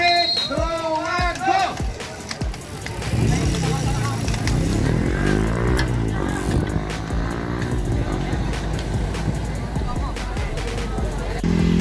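A motorcycle roars past at a roadside cycling race for the 36–45 age category, its engine note rising and sweeping by loudly while a crowd chatters and shouts around it.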